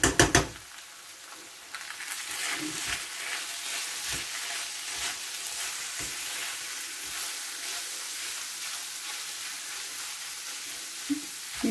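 A parsley filling stirred in a frying pan sizzles steadily and close up, broken by a few sharp knocks of the utensil against the pan, with no talking.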